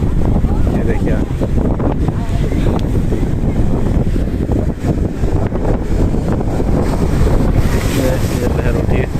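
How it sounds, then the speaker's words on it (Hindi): Sea waves surging across a wet floor at the shore in Dwarka, with strong wind buffeting the microphone and a steady roar of surf and spray filling the scene throughout. "पूरे समुद्र की लहरें यहाँ तक आ रही है"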